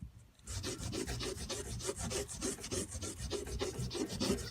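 An old leather belt being rubbed with red jeweler's rouge, making a steady, close scratchy rasp in quick back-and-forth strokes that carries on alone without pause.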